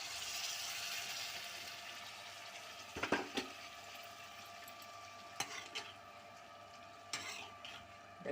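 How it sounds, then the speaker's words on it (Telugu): Chopped broad beans and their water go into a frying pan for a tomato curry, giving a steady sizzle throughout with a few sharp clinks of a utensil against the pan, close and fairly quiet. "మనం ముందుగా రెడీ చేసుకున్న చిక్కుడుకాయ ముక్కలు నీళ్ళతో సహా వేసేయడం."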